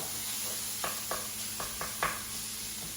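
Sausage ragu sizzling in a pan while being stirred, a constant hiss with several light scraping knocks of the spoon against the pan.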